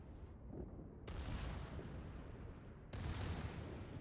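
Battleship secondary guns fire in the naval video game World of Warships, two heavy booming salvos about two seconds apart, each a loud sharp crack trailing into a long rumbling roar, with a faint distant report just before.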